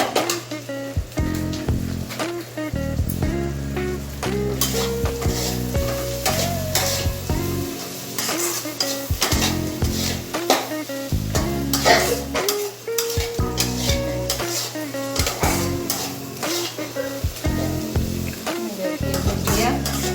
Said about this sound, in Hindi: 5 मिनट तक और भूनूंगी।